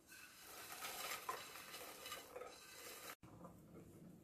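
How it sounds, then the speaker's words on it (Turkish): A spoon stirs a chocolate mosaic cake mixture with broken biscuits in a bowl, making a continuous soft scraping and clinking for about three seconds before a brief pause and quieter stirring. "Güzelce karıştırdım."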